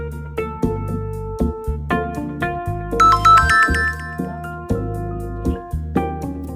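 A phone ringtone plays a repeating melodic tune of bright tones over a pulsing bass pattern, loud and clear with no talking.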